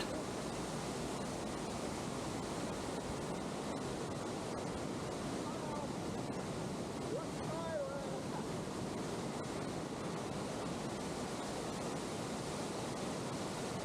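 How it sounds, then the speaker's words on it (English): Havasupai waterfall rushing in a steady, even roar of broadband white water, heard at reduced level with no voices over it throughout. "the sound of the waterfall and background noise would be so great"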